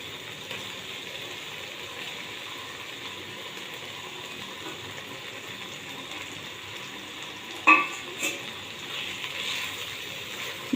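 Fish sizzles in a pan of onion gravy with a steady, soft hiss, and a few light clinks come near the end. No one speaks.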